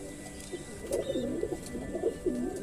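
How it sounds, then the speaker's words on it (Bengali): Pigeons coo in soft, low, repeated rolling calls, several phrases in a row over a quiet background hum. "কবুতর ডাকাটাকি শুরু করে দিছে এখন ডাকাডাকি করতেছে"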